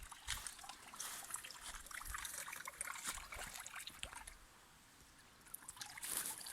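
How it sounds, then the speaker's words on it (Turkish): A village fountain trickles faintly outdoors in winter, a thin uneven stream of water splashing softly and continuously with scattered small knocks around it. "Çeşme az da olsa akıyor."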